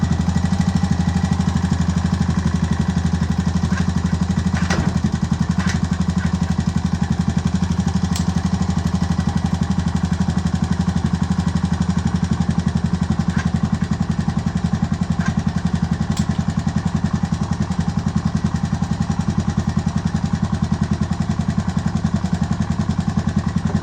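Honda ATV engine with an ES shift kit running at a steady idle, a loud, continuous low rumble close up for the whole stretch with faint occasional clicks and no talk.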